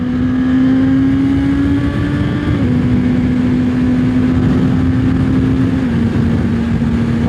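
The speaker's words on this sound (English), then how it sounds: "I love that sound. I love this bike, man." A Suzuki GSX-S1000 sport motorcycle engine hums at a steady, loud cruising pitch, dropping slightly in tone twice as gears shift, heard up close without talking.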